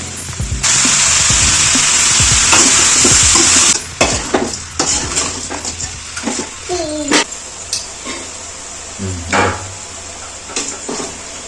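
Goat meat curry fries in a pan, starting with a loud, steady hiss of sizzling oil that then breaks into intermittent stirring scrapes and clatter against the pan.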